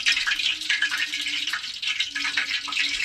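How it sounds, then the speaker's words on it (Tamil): Chicken pieces, including chicken lollipops, fry in a pan with a steady, bright crackling sizzle that holds at an even level for the whole stretch, with no voices over it. "நம்ம இப்போ சிக்கனை வறுக்க போகிறோம்"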